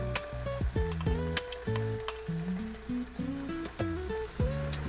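Crushed onion, ginger, green chilli and garlic sizzle in a hot pan for paal kappa, a steady close frying hiss broken by occasional clinks of stirring, with tonal background sounds running underneath.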